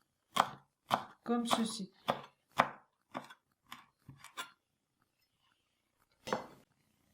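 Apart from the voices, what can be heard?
knife chopping sage leaves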